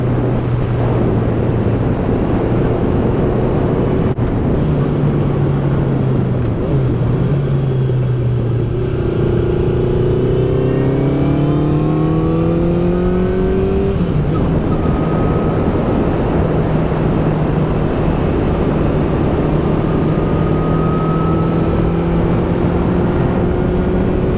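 A Honda CB750 motorcycle engine runs loud and close throughout while riding, its steady droning note rising and dipping with throttle changes and shifts in pitch, with no talk over it.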